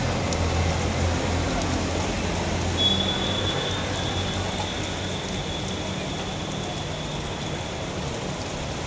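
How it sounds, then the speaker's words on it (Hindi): Rain falls outside an office as a storm begins, a steady even hiss of drops on surfaces, moderately loud and unbroken, with a thin faint tone briefly over it. "बाहर हो गई है बारिश शुरू"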